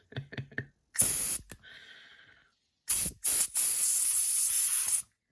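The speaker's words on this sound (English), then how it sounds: "What I'm going to do is take a little bit of canned air." Canned air sprays in short hissing bursts while cleaning a disassembled Olamic Whippersnapper, one brief blast, a softer sputter, then a long loud hiss of several seconds, close up with no talk.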